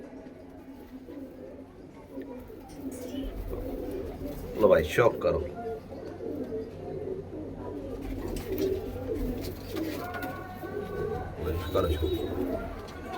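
Punjabi Malwai pigeons coo softly and steadily at close range, with someone talking over them throughout and a brief louder flutter around the middle.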